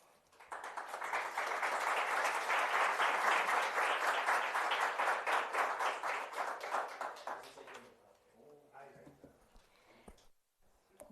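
Audience applause after a lecture on pluralist democracy, steady and full for about eight seconds, then thinning out and fading to near silence with a few scattered late claps.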